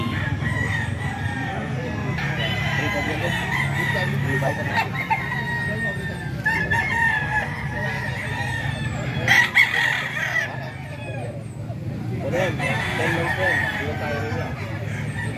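A ten-month-old Hatch gray gamecock crows outdoors, loud and close, giving roughly three drawn-out crows spaced several seconds apart over a low background hum.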